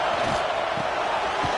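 A home crowd roaring at a football game, a dense, continuous wall of loud cheering and shouting throughout.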